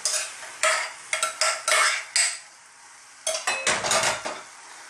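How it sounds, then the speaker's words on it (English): Pasta in a mushroom and sweetcorn cream sauce tossed in a hot pan, a series of rhythmic wet swishing and clattering bursts, about ten in two groups, close and fairly loud over a faint simmer. "Let's just throw this around in the pan."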